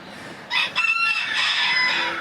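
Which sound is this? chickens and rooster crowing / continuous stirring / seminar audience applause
chickens and rooster crowing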